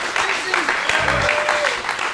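A studio audience applauds in steady, dense clapping, with voices and a brief laugh mixed in over it.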